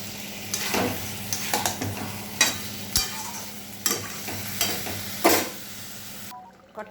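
Bombay duck fish curry stirred in a frying pan over lowered heat: repeated spatula scrapes and knocks at a loose rhythm over a continuous sizzle, close and fairly loud, ending in a sudden quiet.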